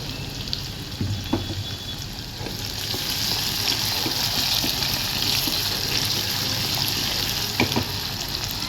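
Steady, close sizzling of food sautéing in a salted, covered pan, a continuous frying hiss with a few soft clicks and pops and no talking.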